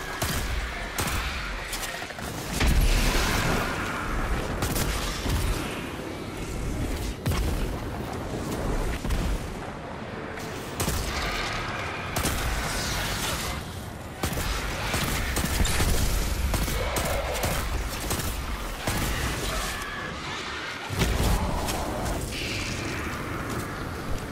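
Hand cannon fire in the video game Destiny 2, loud booming shots repeating in rapid bursts across the whole stretch, dense and continuous with barely any pause.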